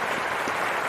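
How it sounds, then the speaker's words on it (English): Short burst of applause played as a sound effect during a live stream, a dense steady clatter of clapping with no voices over it. "Applause for the VIPs in the chat"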